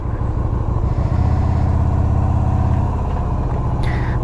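Yamaha V Star 250 motorcycle engine idling close by while the rider tries to shift into neutral, a steady low rumble that swells briefly, then eases back to a lighter idle, ending with a small mechanical click.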